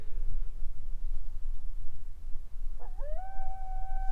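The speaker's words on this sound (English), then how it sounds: "Oh my god, this sounds like a wolf howling." A howling call rises out of dark outdoor rumble at a remote wilderness campsite, one long wavering tone that swells and holds steady near the end, sounding moderately distant against the wind-like background.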